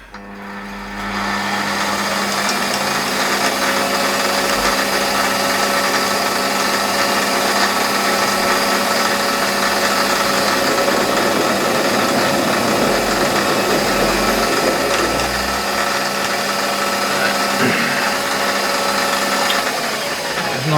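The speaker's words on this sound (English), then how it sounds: "we've got to center drill and drill and ream this 10mm" Center drilling a cast metal pulley on a Sherline 5000 mill: a steady, loud machine whir with a constant motor hum and faint cutting chatter, running continuously with no talk.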